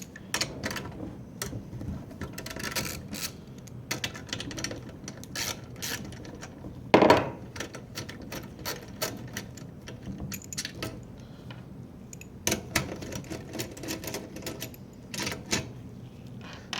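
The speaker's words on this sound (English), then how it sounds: "And then we have two 10mm bolts that we need to remove." Wrench work on two 10mm bolts of a Honda GX120 small engine carburetor: intermittent metallic clicks, ratcheting and light clanks close by, with one sharper knock midway and quiet gaps between.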